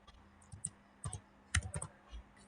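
A command is typed on a computer keyboard to install Vim, a short close run of keystroke clicks in small irregular bursts with no talk.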